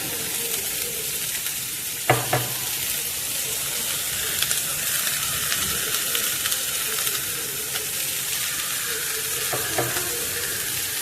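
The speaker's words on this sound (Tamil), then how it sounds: "பீன்ஸை போட்டு சும்மா ரெண்டு பரட்டை பரட்டி விட்ருங்க" Green beans for beans poriyal are stir-fried in a pan, giving a loud, steady sizzle broken by occasional scraping clicks of stirring.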